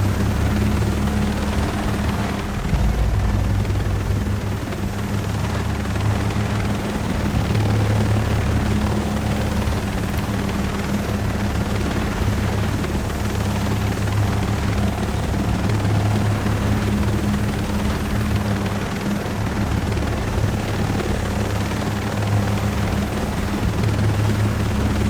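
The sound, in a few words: helicopter rotor in the video game Ghost Recon Breakpoint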